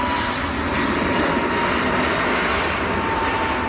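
A Lufthansa Airbus A321 airliner with a yellow tail at Manchester Airport sends out a loud, steady broadband engine roar, continuous and unbroken throughout.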